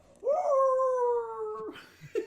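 A human voice imitates a long, rumbling, inhuman howl: one loud sustained wail that swells, holds for over a second and trails off, followed by breathy rustling noises.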